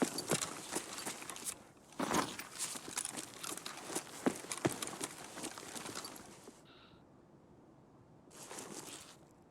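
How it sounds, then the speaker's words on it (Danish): Rapid footsteps thud along at a steady running pace, fading out partway through and then returning briefly near the end. "Jeg hører en, der løber igen nu der."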